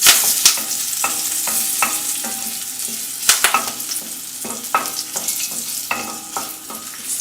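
Curry leaves frying in oil over a slow flame, a steady close sizzle broken by repeated scraping stirs of a spoon against the pan, with no voices.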